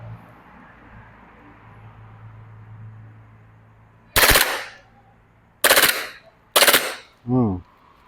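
A Glock 23 BB pistol fires in three sharp, loud bursts set on full auto. Each burst is followed by a short ringing tail, and a faint hum runs underneath beforehand.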